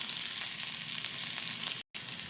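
Hot tempering of mustard seeds and curry leaves in oil sizzles with a steady, bright hiss as it is poured into a coconut-based mackerel curry, with a brief dropout near the end.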